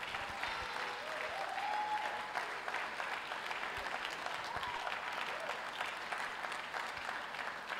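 An audience at an induction ceremony for a college of health and medicine claps steadily in a sustained, fairly loud burst of applause, with some faint voices underneath.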